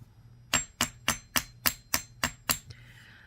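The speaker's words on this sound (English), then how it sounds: "I'm going to give these a few little whacks with my nylon hammer to work harden them a little bit" Eight crisp, evenly spaced taps of a nylon hammer striking wire earrings on a block, each a bright ringing whack, close and clear in a quiet room, followed by a faint tail.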